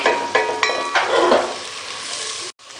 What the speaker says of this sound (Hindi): 2 मिनट मैंने इसको भूना है सब्जियों को।